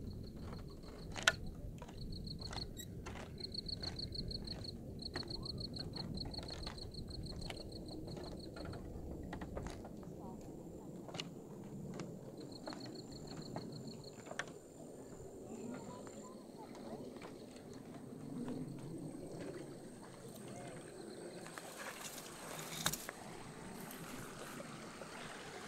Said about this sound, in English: You can definitely hear water.